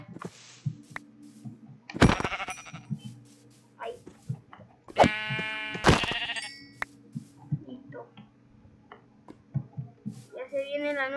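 Sheep bleating in the Minecraft video game, a few sharp harmonic bleats around the middle of the clip and another near the end, mixed with game sounds and a low steady hum.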